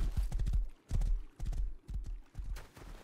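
Horse hooves clip-clop in the Rust video game, with rhythmic bursts of hoofbeats in quick clusters, fairly close and steady, without voices.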